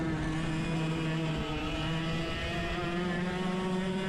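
100cc go-karts running a practice mock race on a track on worn tires, a continuous buzzing engine drone held steady for a few seconds, close and loud without a break, with no voices.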